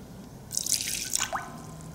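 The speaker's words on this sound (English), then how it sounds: "begin by placing your hands in the water" Gentle water sounds as hands stir in a shallow dish: soft splashes and a few drips, close and brief, with no talking.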